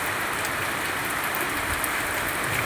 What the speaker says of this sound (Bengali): দেখো, মুষলধারে বৃষ্টি হচ্ছে